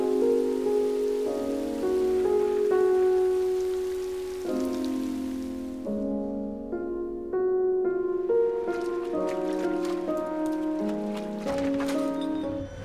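Rain falls in a trailer for the video game Rain, a soft, steady patter under prominent piano-like music that carries on throughout.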